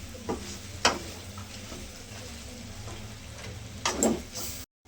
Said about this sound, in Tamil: நல்லா கலரி விட்டுக்கலாம்.